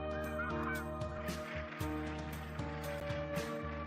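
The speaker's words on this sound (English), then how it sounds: "Most flocks of migrating geese traveling to Nova Scotia come from the northeastern United States." Migrating Canada geese honk repeatedly in a loud, close flock, with overlapping calls in an irregular rhythm and faint water or surf noise beneath them.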